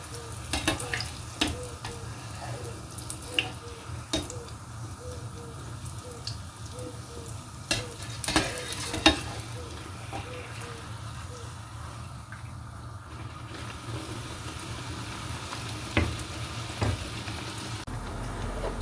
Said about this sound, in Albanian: Kam vendosur për të skuqur petullën e parë.